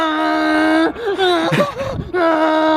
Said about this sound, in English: You can hear him screaming on the phone.